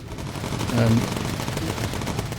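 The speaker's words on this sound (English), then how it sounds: "Let's try and get this new cannon going." Cannon fire from a bomber aircraft in the World War II game Bomber Crew, a rough stream of repeated shots under steady engine drone, with someone talking over it.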